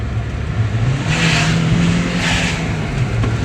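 A Chevrolet Cruze with a newly replaced turbo revs up twice in quick succession, loud and close, with a rising engine roar and a hissing rush at each swell over a steady idle rumble.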